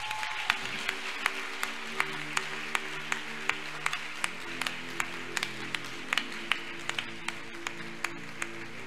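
Church congregation at an evening worship service clapping in a steady rhythmic beat, the applause sustained and moderately distant throughout, with a low hum of music underneath.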